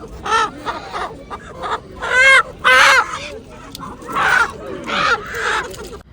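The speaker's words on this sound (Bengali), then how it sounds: "এখানে মুরগি বিক্রি করতেছে, বড় বড় ব্রয়লার মুরগি" Big broiler chickens at a market in Dammam squawk and cluck in loud, irregular bursts close by, with voices talking around them.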